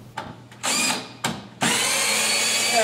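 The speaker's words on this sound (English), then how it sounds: "we now need to remove the screws that hold it to the wall" A power drill backs screws out of a large aquarium stand fixed to a wall: two short whirring bursts, then a longer loud run that keeps going, all close and with no talking.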